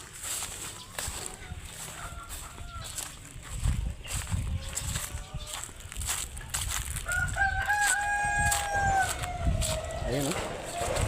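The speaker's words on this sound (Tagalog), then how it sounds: "Tingnan ko yung manok na." Organic chickens of various colours fill a poultry building with clucking, and a rooster crows clearly several times near the end; footsteps shuffle and a voice talks underneath.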